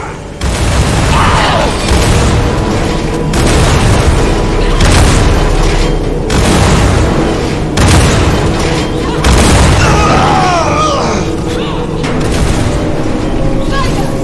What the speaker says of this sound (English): Your bombard has been destroyed.